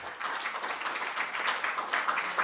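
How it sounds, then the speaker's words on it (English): An audience at the release of the Provisional Voters Register gives a round of applause: many hands clapping in a steady, even patter from start to finish, moderately loud. "give us another round of applause to all of us"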